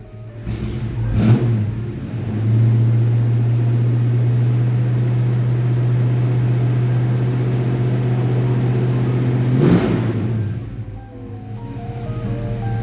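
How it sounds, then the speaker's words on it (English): 1953 Ford F100 hot rod with a stock 5-liter HO V8 firing up, a starter burst followed by a loud steady idle, then a second blip of revs near the end, with no talk. "All right, we got it fired up."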